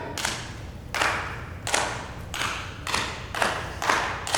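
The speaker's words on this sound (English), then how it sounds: "I'm going to start clapping, okay? It's going to progressively get faster." Hands clap in a steady series of about seven sharp claps, the gaps shortening slightly so the rhythm gradually speeds up.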